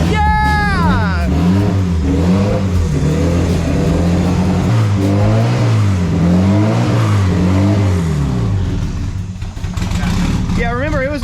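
Honda Civic engine revving hard and rising and falling in pitch, loud and close, with excited voices shouting over it.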